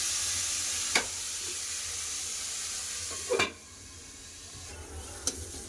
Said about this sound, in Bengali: ঢাকা দিয়ে ভালো করে ভেজে নেবো